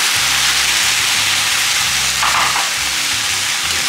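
Huitlacoche and chile fry in a pan, giving a loud, steady hiss of sizzling with a brief scraping stir partway through and low rhythmic thumps beneath.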